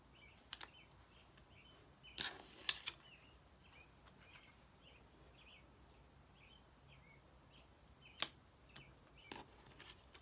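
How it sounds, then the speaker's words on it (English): A small bird outdoors chirps faintly in a steady series of short, evenly spaced calls, heard at a distance beneath a few louder nearby clicks and rustles. "can you hear that little bird? They wake me up in the morning."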